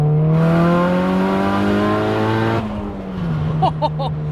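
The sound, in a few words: car turbo engine revving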